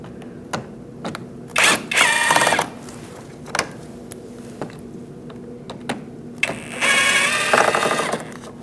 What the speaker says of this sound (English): Using a 7mm socket, we're going to take out the bolts underneath to remove our fender liner.